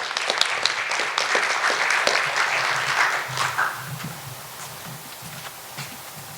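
An audience applauds after a student oral presentation on caring for the Kenai, a burst of dense clapping that swells and then thins and fades within a few seconds, leaving quiet room noise.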